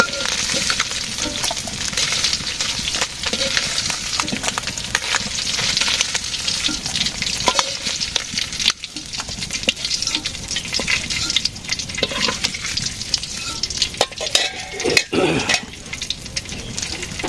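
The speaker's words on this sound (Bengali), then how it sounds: "মাছ ভাজি হয়ে গেছে" Fish fries in oil in a village kitchen, with a dense, crackling sizzle running throughout, occasional pan and utensil clinks, and faint voices in the background.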